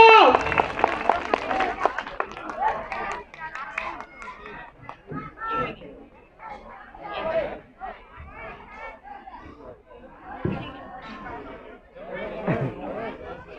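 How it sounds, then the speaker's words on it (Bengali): An audience at a school prize-giving ceremony claps in a short burst of applause at the start. Chatter and spoken voices follow and carry on through the rest. "সবাই জোরে হাততালি দেব"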